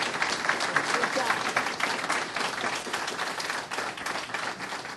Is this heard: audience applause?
yes